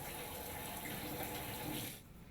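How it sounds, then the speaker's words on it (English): Water sprays from the side sprayer of a Pilar Waterfall kitchen faucet with Touch 2.0 into a sink, a steady close hiss that drops in strength near the end, with no talk. "Test the side spray."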